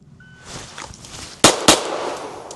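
Two sharp pistol shots ring out close by, about a quarter second apart, fired right after a draw from a Safariland IncogX holster during timed shooting practice.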